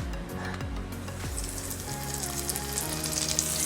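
Bombil (Bombay duck) fish, coated, frying in hot oil on a low flame, giving a steady close crackling sizzle with a low rumble underneath and no voices throughout.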